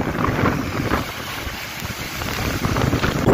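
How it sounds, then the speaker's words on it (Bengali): Strong wind and heavy rain sweep the seashore at Digha's marine drive, with a continuous roaring buffet of gusts against the microphone that rises and falls, no voices heard. "বিশাল হাওয়া চলছে, ভীষণ বৃষ্টি হচ্ছে।"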